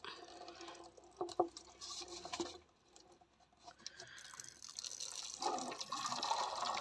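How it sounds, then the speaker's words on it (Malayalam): Water from an outdoor tap fills a container for spraying mango grafts, an uneven pattering flow that pauses briefly midway and then resumes more steadily, fairly faint with no voices. "ഇനി പൈപ്പിൻ്റെ അവിടെ പോയിട്ട് നമ്മൾ ഇതിലോട്ട് വെള്ളം ആഡ് ചെയ്ത് കൊടുക്കാം"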